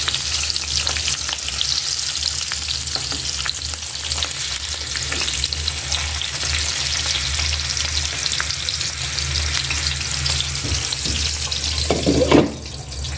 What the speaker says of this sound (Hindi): हमने 2 टेबल स्पून ऑयल डाल दिया है। बारी बारी अपनी मिर्ची डाल दिए।